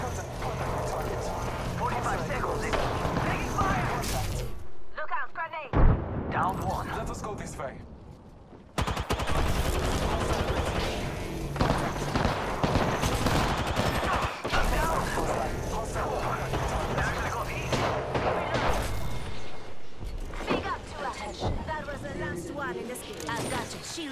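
Gunfire in Apex Legends: rapid bursts and shots crackle through a dense mix of game effects, with a brief lull near the middle and voices talking over the action.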